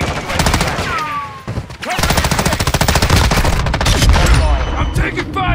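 Rapid automatic gunfire from an M13B rifle in Call of Duty Modern Warfare 2 multiplayer, loud and sustained through most of the stretch after a brief lull, with sharp repeated bursts.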